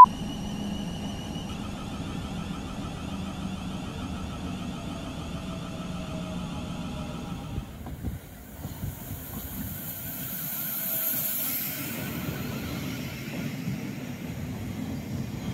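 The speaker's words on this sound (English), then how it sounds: "compare the AP motor sound to another real life clip, but this time as the train is decelerating, so you can really hear the difference in pitch of the whine below 30" A Class 700 electric train decelerates, its traction motor whine holding steady tones that shift and fade partway through, with a rumbling rail roar underneath and no talk.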